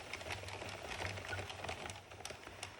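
An Addi knitting machine working its final row, a steady fast mechanical clatter of the carriage and needles, close and continuous with no talking.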